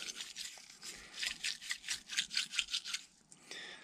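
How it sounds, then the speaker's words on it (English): A toothbrush scrubs out debris inside the motor of an Arrma Vorteks RC car, giving rapid rhythmic rasping strokes that speed up into a steady back-and-forth burst before stopping. "Take a toothbrush, jam it in there. Basically just kind of clean all that junk out of there."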